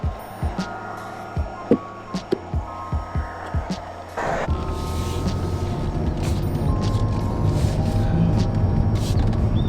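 A 2023 Mazda 3 Turbo on the move, with a steady low road and engine rumble that builds after a few seconds of soft thumps, mostly even in level and close to the cabin.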